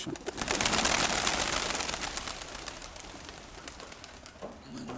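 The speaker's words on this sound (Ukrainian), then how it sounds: "Тут тримаються голуби." Pigeons coo steadily inside a dovecote, a close, continuous flock murmur with soft rustling and no talking.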